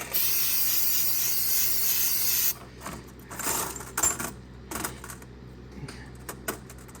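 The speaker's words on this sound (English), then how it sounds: "we'll just spray the bolts down real quick." A steady loud hiss of cleaner sprayed onto bolts from a 1945 Farmall A tractor for about two and a half seconds, then stops, followed by scattered clinks and light handling noises.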